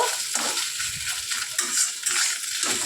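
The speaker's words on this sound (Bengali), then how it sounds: "মাছের ডিমটাকে কিন্তু আমি হালকা করে ভেজে নেব" Fish roe frying in a pan with oil, a steady bright sizzle with light scraping and stirring clinks from a spatula throughout.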